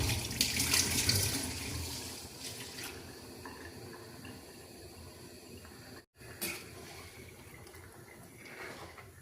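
Water pouring steadily into a fish curry mixture in a kitchen, a continuous close splashing hiss that runs for several seconds with one brief cut in the middle.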